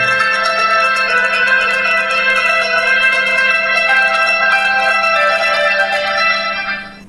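A MIGO Ornate feature phone's electronic ringtone plays a bright, steady melody from its small speaker, continuing evenly before tapering off at the end.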